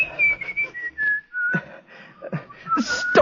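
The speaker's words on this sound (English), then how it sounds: "Stop whistling that infernal tune." A person whistles a wavering tune, with the melody sliding between held notes. Faint rustling sits underneath, and there is no talking.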